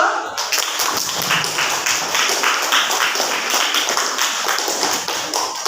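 Classroom students clapping together in a fast, steady rhythm, loud and close, continuing for several seconds with little talk.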